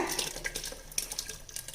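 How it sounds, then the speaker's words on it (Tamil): Tamarind water mixed with coconut paste pours into a pan of kuzhambu curry, a soft, uneven splashing trickle heard close up with no talking. "இப்போ நம்ம கலக்கி வச்சுருக்க புளித்தண்ணி தேங்காய் கலவையை இதில் ஊற்றிடலாங்க"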